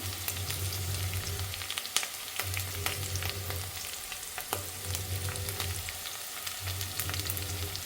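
Garlic and green chillies sizzle steadily in hot oil, a dense crackling hiss with occasional sharper pops and light stirring, close and continuous with no voices.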